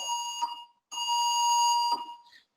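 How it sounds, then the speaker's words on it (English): An electronic school bell rings loud and steady in two bursts, a shorter one then a longer sustained one, with a brief silent gap between them. "School bell."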